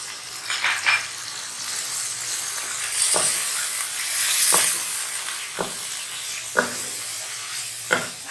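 Chicken fries in a pan with red chili powder, turmeric and salt, a steady soft sizzle broken by several sharp scraping stirs at irregular intervals.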